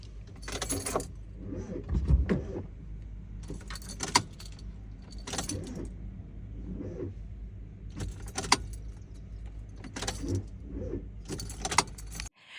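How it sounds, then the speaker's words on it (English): A car engine cranks over and over without catching, in several separate bursts of starter grinding spread across the clip, with keys jangling in between the attempts. "So then I crank it. And actually, let me step aside, insert the clip of the way that my car sounded"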